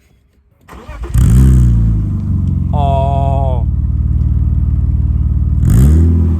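A BMW E36 323i inline-six with a stainless exhaust starts and revs hard, a loud, deep, smooth rasp that holds at steady revs, climbs in one brief higher sweep and surges again at the end, close by, with a man briefly exclaiming over it.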